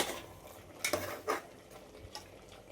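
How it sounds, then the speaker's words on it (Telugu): Mutton cooks in oil in a pot, mostly quiet with a faint frying hiss, while a few distinct ladle scrapes and clinks against the metal sound up close as it is stirred. "మధ్య మధ్యలో కలుపుతూ ఉండాలి మనం చూసుకోవాలి మాడిపోకుండా ఇలాగే నూనెలో బాగా ఫ్రై చేసుకోవాలి"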